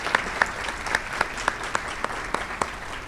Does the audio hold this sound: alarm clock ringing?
no